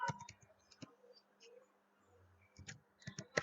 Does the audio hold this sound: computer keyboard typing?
yes